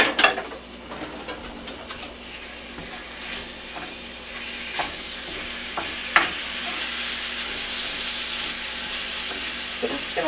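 Ground lamb sizzles steadily in a hot pan at home, a continuous near frying hiss broken by a few sharp ticks and clicks, with no talking.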